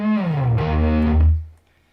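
Electric guitar played through a flanger into a Paul Gilbert overdrive pedal, an old-school lead tone: a sustained, distorted note with a bending slide and sweeping, swirling modulation, loud and alone before ringing out and stopping.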